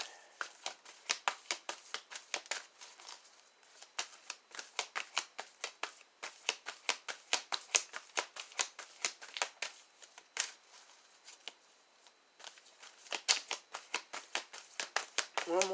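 Tarot cards being shuffled by hand during a reading, a long run of quick, crisp riffling bursts in an uneven rhythm, close and fairly quiet, with a brief pause near the end before the shuffling resumes.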